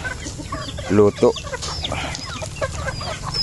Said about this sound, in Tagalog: Yan ang aking mga manok kagugulo.